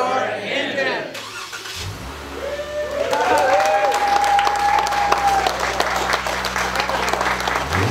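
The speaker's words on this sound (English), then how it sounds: "Gentlemen, start your engine." A Jeep engine cranks and fires up at a giveaway event, settling into a steady rumble as a crowd breaks into sustained applause and cheering, with voices in the background.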